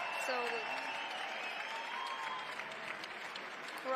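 Loud, sustained applause from a crowd at a lead climbing semi-finals in Madrid, greeting a climber's top, with a commentator talking over it.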